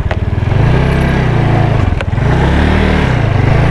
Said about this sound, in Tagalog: Malakas tong motor natin, ah. Mapuwersa.